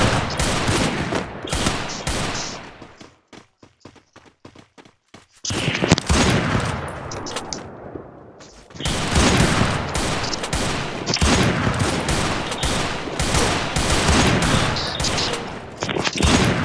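Rapid bursts of gunfire from a sniper rifle in a video game, loud and dense, with a quieter stretch of sharp sparse clicks and a brief near-silence before heavy firing resumes.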